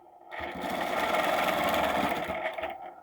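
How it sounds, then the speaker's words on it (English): Sewing machine stitching an arc on fabric, a close, steady mechanical whir running continuously for about two and a half seconds, starting and stopping cleanly with no voices. "Let's stitch an arc."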